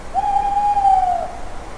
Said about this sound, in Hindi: दिन के सोए हुए उल्लू भी उठ जाते हैं।